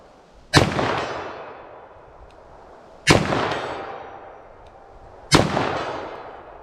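Three loud, sharp gunshots from a .357 or .44 Magnum fired into ballistic gel, spaced about two and a half seconds apart, each cracking out with a long echoing decay.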